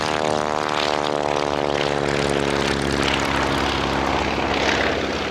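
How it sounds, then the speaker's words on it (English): A Beech Staggerwing, a powerful radial-engined taildragger biplane, drones steadily with loud, sustained propeller and engine noise throughout, a constant near harmonic hum with no talk. "This powerful aircraft proved to be a handful for many pilots, particularly on the ground, due to the engine torque"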